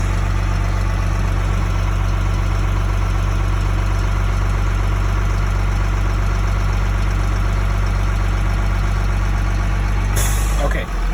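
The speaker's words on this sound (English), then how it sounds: "I can give the engine a little bit of gas and wait for that pressure to build up all the way to 120 pounds" Truck engine idles steadily while building air pressure toward 120 pounds, a loud, constant, low rumble that runs unbroken until an abrupt burst and drop near the end.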